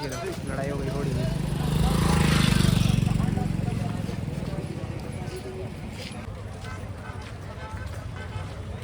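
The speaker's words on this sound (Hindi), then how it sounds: "ये देखो लड़ाई हो गई घोड़ी में।" Horses scuffle at the Pushkar animal fair in Rajasthan, with a burst of hoof clatter and stamping that swells around the middle of the clip and then settles into steady outdoor crowd noise and background talk.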